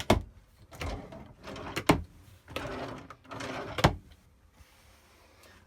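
Drawers in a 2006 Autotrail Cheyenne 660SE motorhome being opened and shut, giving about five close, sharp sliding knocks and thumps in an uneven rhythm, with no talking.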